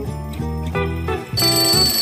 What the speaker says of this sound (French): pourquoi je me suis mis un réveil?